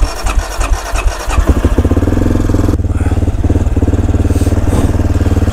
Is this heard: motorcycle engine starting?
yes